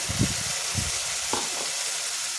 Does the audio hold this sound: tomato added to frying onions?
yes